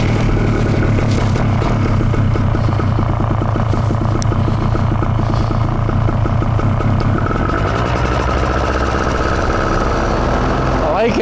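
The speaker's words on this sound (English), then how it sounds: "Stoked for the new engine." A Moster Factory R paramotor engine runs loudly and close, a harsh rapid pulsing drone that smooths into a steadier roar partway through as it builds, with no talking.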